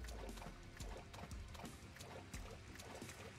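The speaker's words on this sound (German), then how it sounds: "Ein Wasserfall." A waterfall in a blocky, Minecraft-style first-person shooter video game gives off a quiet, steady rushing and splashing of water with small irregular trickles, alone without talk.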